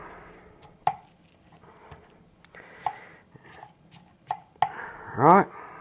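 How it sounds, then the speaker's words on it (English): A knife chopping mushrooms on a cutting board, a handful of sharp, separate knocks spaced a second or two apart, close and clear, ending in a brief scraping sweep across the board. "So we chop all of this up."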